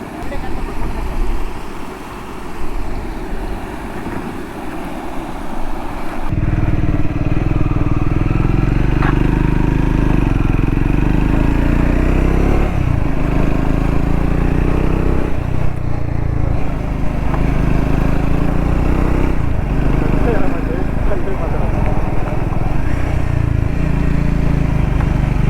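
A Kawasaki 650 or Triumph Scrambler 400X being ridden on a road trip, its engine rumbling steadily under wind noise after a quieter start, while people talk over it.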